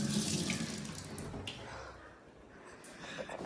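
Water gushes steadily from a kitchen tap into a container, loud and continuous at first, then thinning and quieter as the flow eases, with a few faint clinks near the end.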